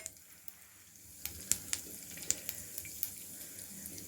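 Fennel, mustard and cumin seeds sputter in hot oil, a soft sizzle broken by sharp popping crackles that grow more frequent midway, close and without talk.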